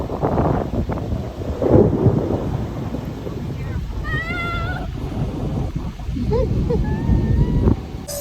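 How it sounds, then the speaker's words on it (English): Thunder rumbles as a storm approaches, a low rolling roar with gusts of wind buffeting the microphone and a few faint high calls, while people talk nearby. "now it's fixing to really storm on us"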